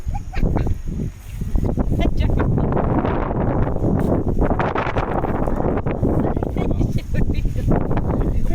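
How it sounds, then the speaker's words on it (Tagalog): Steady wind buffets the microphone outdoors at Lintaon Peak in Baybay City, a continuous rushing roar with gusty swells. "Masarap simoy ng hangin."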